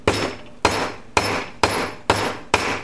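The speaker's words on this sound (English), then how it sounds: "let's do a little slamming that with a hammer action." Six evenly spaced hammer blows flattening a piece of lead, each a sharp close thud with a short ring, in a steady rhythm.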